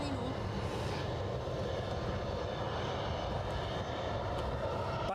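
Ryanair airliner taking off at Edinburgh Airport, a broad steady jet engine roar heard from a distance that holds constant and loud throughout.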